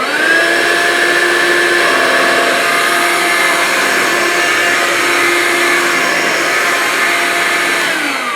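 A Vax Life cordless vacuum cleaner, also sold as the Hoover Lynx, runs steadily on carpets and floors with a loud, close, unbroken motor whine and airflow rush, with no pauses or talk.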